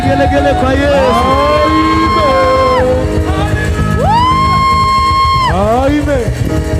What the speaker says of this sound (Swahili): Shangwe na vigelegele kwa Yesu